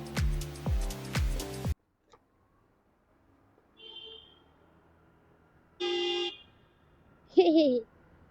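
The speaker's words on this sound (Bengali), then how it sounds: "আবার স্কুটির হর্ন" Scooter horn honks on a road near Majitar in Sikkim: a long blaring tone at the start, then a few shorter, fainter honks separated by quiet stretches.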